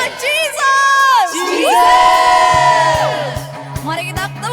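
A large crowd at a youth conference cheers, whoops and shouts in a loud swelling roar. A rhythmic thumping beat sits under the last half.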